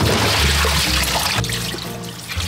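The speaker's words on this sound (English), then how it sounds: "Once you cut off the ends, thoroughly rinse and repeat about 3 to 5 times" Tap water pours and splashes over cabbage leaves being rinsed, a loud close rush of running water with shifting splashes.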